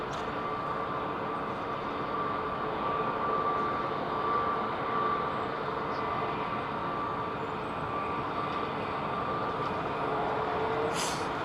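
A Virgin Atlantic aircraft, flight VS47, at London Heathrow Airport gives off a steady, even jet roar at a distance that holds for several seconds without a clear rise or fall.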